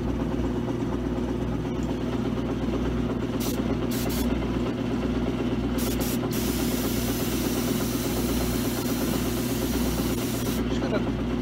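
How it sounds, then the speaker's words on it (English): An airbrush spraying dye onto shoe uppers gives a steady, close hiss over a constant low mechanical hum, likely its compressor, with a few brief bursts of stronger spray and faint talk in the background. "Oh Lord, my airbrush."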